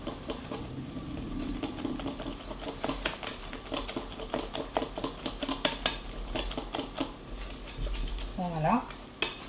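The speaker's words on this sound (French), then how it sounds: "on vient tout simplement incorporer notre farine à notre mélange" Chocolate muffin batter being stirred by hand as flour is folded in, a steady run of soft scraping and tapping strokes against a bowl, close and moderately quiet, with a brief voice-like sound near the end.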